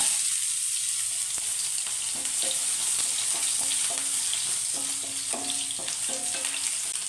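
Shallots fry in hot coconut oil with a steady, close, hissing sizzle that never lets up, with faint scattered pops and light clinks from the pan underneath.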